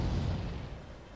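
Gunfire striking a Lansen C tank on the Prohorovka map in a World of Tanks-style game, a single dense booming impact that rumbles loudly and then fades within about a second.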